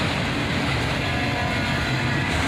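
Southbound manifest freight train led by a single ES44AC locomotive with distributed power, rumbling past in a steady, loud, continuous roar of wheels and cars throughout.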